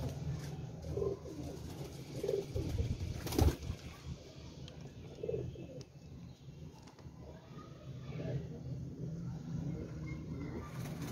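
Salary Teddy breed pigeons coo in soft, repeated throaty bursts close by, with several calls spaced a few seconds apart over a low background hum.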